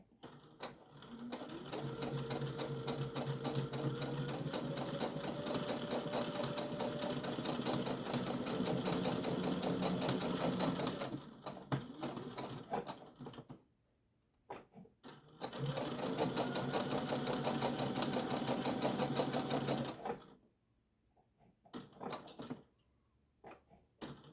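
A sewing machine stitches a cord keeper in two long, steady runs of rapid mechanical whirring, each several seconds long, separated by short quiet pauses while the fabric is turned, loud and close with no talking.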